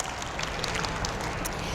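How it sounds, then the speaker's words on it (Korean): An audience claps together in a short burst of applause, a dense spatter of hand claps that is fairly faint and continuous for under two seconds, with no voices standing out. "다 같이 박수."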